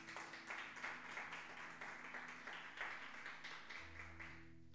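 Congregation clapping during a Spanish-language church service, a steady dense patter of many hands continuing for several seconds at moderate distance, with a sustained organ or keyboard chord held underneath.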